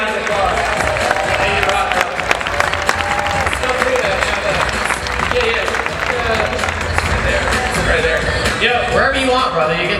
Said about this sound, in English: give Jerry a round of applause